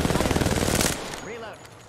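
Video game gunfire rattles in a rapid automatic burst up close, then cuts off and leaves a short descending electronic game sound under faint background audio.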